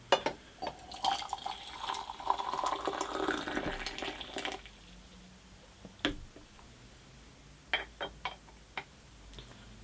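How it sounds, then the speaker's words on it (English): Hot water poured from a kettle into a teapot and cups, a steady trickling fill for about four seconds followed by scattered clinks and light knocks of porcelain, quiet and close. "the first thing that we're going to do is warm up our teapot and our cups"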